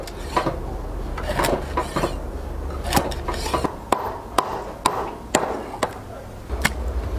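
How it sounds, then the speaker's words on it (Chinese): Grass carp flesh is chopped into chunks with a cleaver on a board in a home kitchen, giving a series of about a dozen sharp, irregular thuds up close, with quieter scraping between the blows. "再把鱼肉剁成块块"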